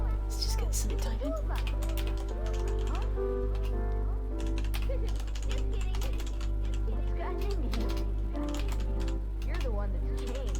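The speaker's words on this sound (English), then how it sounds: "Let's just get some typing." Keys tapped in rapid, irregular bursts on a computer keyboard, clicking under music and a speaking voice throughout.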